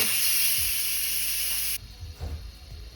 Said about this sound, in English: Pressure cook for an hour and a half and then quick release when done.